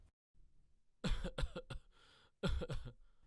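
Several harsh coughs burst out close and loud, a cluster of three followed by another pair after a brief pause, with faint low room noise between them.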